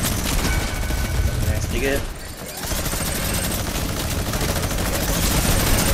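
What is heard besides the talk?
gunfire in a video game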